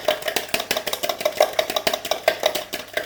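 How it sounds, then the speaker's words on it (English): Eggs are beaten in a bowl with a whisk, a steady quick rhythm of light clicking and tapping strokes repeating close up without talk. "make sure you give the eggs a good whisk up before you put the milk in"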